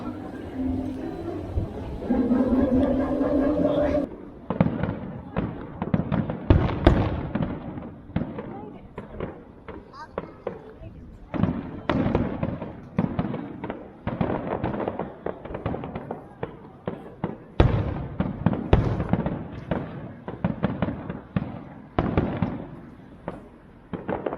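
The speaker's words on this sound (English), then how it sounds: "Did you not see that fireworks? Because I filmed that bit." Fireworks at the Adventure Island amusement park in December crackle and bang in rapid, irregular bursts, loud and fairly close, continuing for the whole stretch after a short passage of talk at the start.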